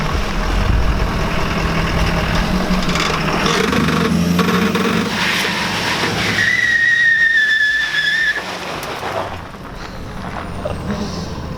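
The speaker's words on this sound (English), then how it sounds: "That was some one wheel peel on one side and then the other side peeled out and then they both peeled out" A Ford Powerstroke diesel truck peels out on concrete, one wheel and then both, with a loud engine roar and a high tire squeal that rises and then cuts off.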